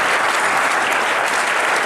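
Dense, steady audience applause fills the opening of a public event in Darbhanga, a continuous wash of clapping at full loudness with no speech over it.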